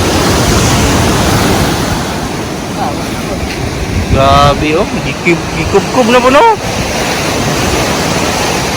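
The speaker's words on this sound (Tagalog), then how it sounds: "Kinaumagahan, lakas ng hangin at saka alon." Strong wind and sea waves strike the shore near a chicken farm in Glan, Sarangani Province, making a steady, loud roar of broadband surf noise throughout, with a voice briefly speaking over it in the middle.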